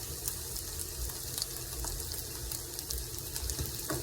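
Empanadas fry in a pan, their shells hardening as they cook on both sides, giving a steady, close, even sizzle with no talking.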